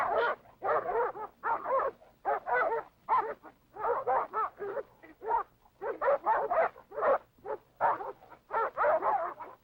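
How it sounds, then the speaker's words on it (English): Trained police dogs bark in a steady run of rapid, loud barks, close and continuous, with short gaps between clusters. "Jackson also has 6 trained police dogs."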